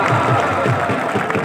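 Spectators at an outdoor volleyball match break into loud, dense, continuous applause and crowd noise that fills the whole moment.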